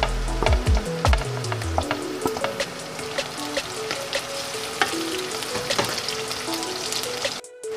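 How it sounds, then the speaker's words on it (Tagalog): Chopped onion and garlic sautéing in a hot pan for pork with tofu in oyster sauce, a steady close sizzle with stirring scrapes, and a brief clatter of a utensil near the start. "Gisa na natin yung sibuyas."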